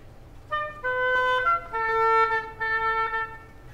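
School chamber winds ensemble plays a ritornello melody in mixed 6/4 time at a winter concert, layered sustained notes stepping through pitches in phrases, clear and fairly close with no voices.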